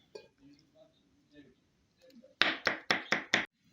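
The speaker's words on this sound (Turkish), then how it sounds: "hepsini güzelce doğrayalım" Five quick, sharp knife chops through eggplant on a cutting board in steady rhythm, close and loud, after a stretch of quiet kitchen sounds.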